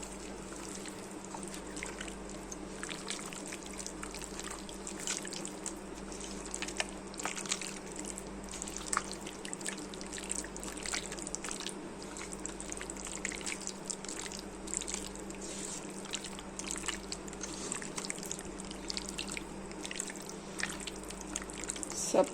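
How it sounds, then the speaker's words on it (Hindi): Wet, squelchy hand-mixing of raw chicken in a homemade marinade with salt, heard as a steady close run of soft liquid drips and dabbing over a low background hum, with no speech. "हाथ की मदद से अच्छी तरह मिक्स करेंगे।"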